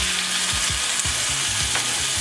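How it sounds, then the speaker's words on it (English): Wrapped halibut sizzles loudly in a hot pan of butter, a constant close frying hiss with soft clicking pulses underneath and no voices. "You see that sizzle, that's what you want."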